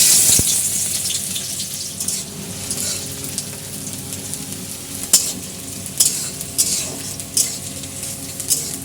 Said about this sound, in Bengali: তেল গরম হয়ে গেলেই প্রথমে আমরা দিয়ে দেবো পেঁয়াজ কুচি।